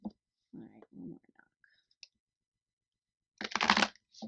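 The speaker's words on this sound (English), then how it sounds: "let me shuffle this one" Tarot cards being shuffled in a quick riffling burst near the end, after a few soft taps and brief sounds.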